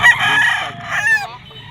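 A Sweater Roundhead gamefowl rooster crows once, loud and close, its drawn-out call rising and then breaking off, with no other sound around it.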